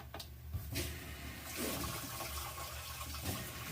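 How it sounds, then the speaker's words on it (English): A GE washing machine set to drain and spin lets out a few short spurts of water, heard as a continuous watery rush of moderate loudness with small surges, close by and with no voices. "not sure what it means here with these 3 little spurts of water when you say drain and spin"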